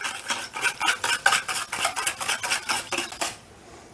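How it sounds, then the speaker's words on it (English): A whisk beats sweet and sour sauce in a bowl, making steady, rapid, close metallic clinking and scraping strokes in an even rhythm that stop abruptly near the end. "give it a good whisk and tasting it"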